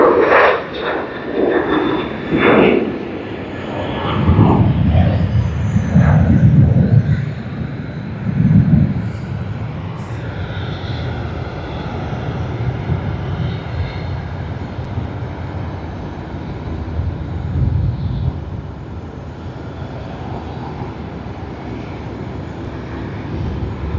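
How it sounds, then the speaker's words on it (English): A Japan Airlines Boeing 777-300ER taxis toward runway 34L at Sydney Airport, its jet engines giving a loud, rumbling whine that surges early and then settles into a steady, slowly fading roar. "Japan Airlines Boeing 777-300ER making its way to runway 34L"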